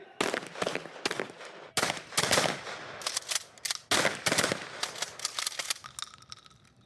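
Less-lethal beanbag shotguns fire during a police training exercise, a rapid run of sharp, loud shots in quick bursts, some overlapping, with brief gaps between volleys and no talk.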